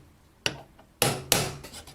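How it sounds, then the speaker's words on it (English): Hammer taps on a tool during repair of an antique American Welch kitchen clock, three sharp, close metallic strikes in an uneven rhythm with quieter rubbing in between. "give it one short tap with a hammer to make sure it's fitting in correctly"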